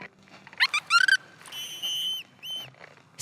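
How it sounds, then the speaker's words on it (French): A series of short, bright whistled chirps followed by longer sustained whistle tones, clear and close with no talking. "Fais-nous un joli petit sifflement."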